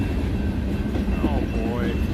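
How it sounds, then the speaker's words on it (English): A train rumbles past close by, a steady heavy roar with faint screeching tones and a voice speaking briefly over it. "Nothing like being late to work, waiting for a train."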